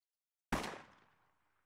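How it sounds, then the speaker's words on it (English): A single sharp gunshot from Fallout New Vegas cracks out of silence and then trails off in a fading echo. It sounds faint and distant, with nothing else heard. "I hear gunshots."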